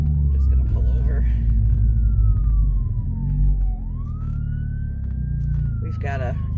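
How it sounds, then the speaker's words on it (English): A loud ambulance siren wails in long sweeping rises and falls as it approaches and passes a car that has pulled over to the roadside, with a steady engine and road rumble underneath. "We've got an ambulance coming here, so I want to pull over and let him go through"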